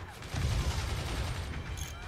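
Gunfire from the video game Forts comes as a dense, booming burst of rapid shots, loud and continuous for about two seconds.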